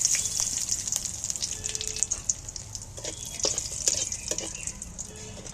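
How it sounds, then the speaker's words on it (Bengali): Whole cumin and a dried red chili hit hot oil and crackle in a sharp, continuous sizzle. Scattered pops and stirring clatter sit on top, close and fairly loud, with no speech. "এখানে আমি গোটা কথা জিরে আর একটা শুকনো লঙ্কা তেলটার মধ্যে ফুরন দিয়ে দিচ্ছি"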